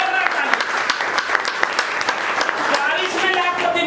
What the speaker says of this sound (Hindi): जोरदार तालियां एक बार उनके लिए, जोरदार तालियां